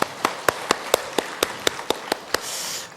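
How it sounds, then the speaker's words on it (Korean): A church congregation claps together in a steady rhythm, about a dozen sharp, evenly spaced unison claps ringing through the room before they dissolve into a brief softer patter. "박수 한번 치시죠."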